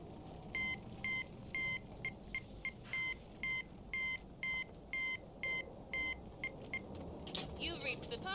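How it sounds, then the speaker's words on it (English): In a Call of Duty Zombies game, a phone sounds a sequence of regular, evenly spaced electronic tone bursts, like keypad beeps or ring pulses, over a low background hum, ending in a brief garbled electronic noise. "we're gonna listen to the phone one more time"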